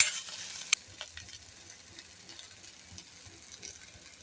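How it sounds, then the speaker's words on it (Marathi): Spice paste for misal being stir-fried in oil, a faint steady sizzle with light scraping and stirring clicks, one sharp knock near the start, no talking. "आता ते परतून घेत आहेत. व्यवस्थित फ्राय करून घ्यायचं."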